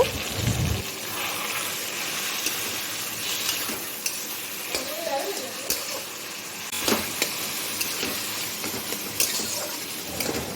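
Taro leaves, coconut and ground cumin hit hot tempering spices in a pan, setting off a soft sizzle with stirring scrapes and light knocks of a spoon, close and fairly quiet, no voices.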